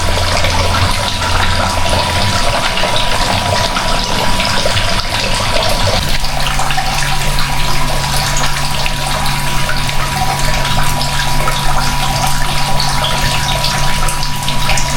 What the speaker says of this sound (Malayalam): വെള്ളം ഇങ്ങനെ തലയിൽ കൂടെ ഇങ്ങനെ വീണുകൊണ്ടിരിക്കുകയാണ്